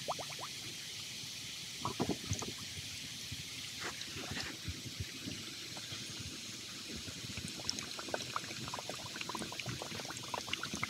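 Water from a hand-pump well at a wetland gurgling and trickling into a bottle as it fills, with soft bubbling bursts at close range and a quiet outdoor background.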